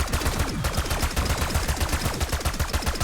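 Rapid automatic gunfire from a weapon in Black Ops 6 Zombies, boosted by double tap, rattles out in a dense, continuous stream of close, loud shots with no break.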